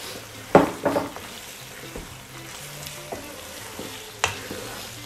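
Mushrooms and canned chopped tomatoes are stirred in a pan of sizzling lasagna meat sauce: a few sharp scraping strokes up front, then softer stirring and a low sizzle, with one more clink near the end.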